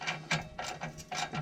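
Clamp on a car being loosened, giving a run of short mechanical clicks and ratcheting bursts at a moderate, uneven rhythm, close by and fairly quiet with no talk.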